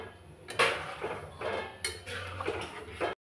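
A spoon stirs milk pitha in a cooking pot, scraping and clinking against the metal in short uneven strokes, close by, before the sound cuts off abruptly. No one speaks.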